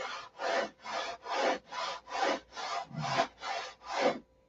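A SIG Magnum fuse is ground while being rolled, producing about ten regular, close rasping passes, each swelling and fading in a steady rhythm.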